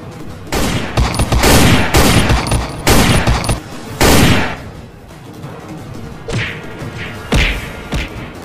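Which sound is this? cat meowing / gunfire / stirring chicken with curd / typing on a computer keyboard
gunfire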